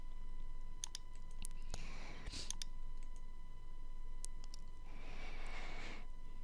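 Sparse, sharp computer mouse clicks as map layer themes are selected, each a single close click with gaps between, over a steady background hiss, with a couple of brief whooshing noises.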